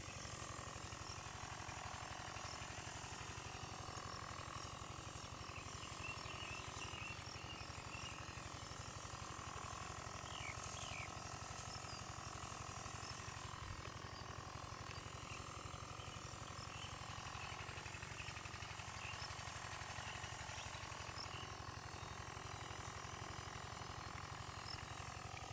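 Motorized sprayer applying Gold Rush insecticide to squash plants against whiteflies, a continuous rough mechanical drone with a rattling, ratchety texture that runs unbroken throughout at a steady level.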